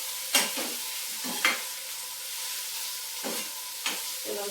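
Spices tempering in hot oil over a low flame, giving a steady faint sizzle broken by several short stirring scrapes and clatters, with no talking.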